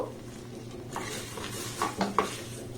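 A spoon stirs a rice and mango sweet mixture in a pan over a low flame, with soft steady scraping and a few sharper clinks near the end, close by and without speech.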